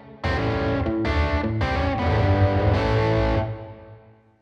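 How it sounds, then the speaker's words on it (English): A heavily distorted electric guitar plays a slow rolling riff, a few sustained chords struck in sequence and ringing loud and close, then fading out at the end. "So if I play the whole riff slow,"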